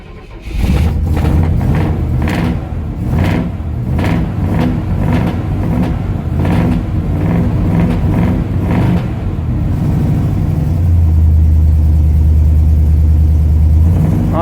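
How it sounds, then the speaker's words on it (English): An old 1972 three-quarter-ton truck, sitting unused for a couple of weeks, cranks and fires, its engine revving in repeated bursts before settling into a steady, loud, close idle rumble. "So here we are in the old 72 3/4 ton. We're going to give you a cold start"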